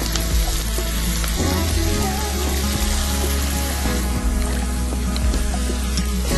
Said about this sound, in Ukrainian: Знову помішаємо гарно. Треба частіше мішати, щоб вона не почала горіти.